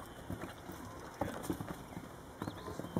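Hooves clip-clop at a slow walking pace, each step a distinct knock against a quiet background, fairly close.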